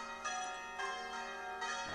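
Church bells ring out in repeated, resonant strokes with sustained overlapping tones, moderately loud and heard alone without talk.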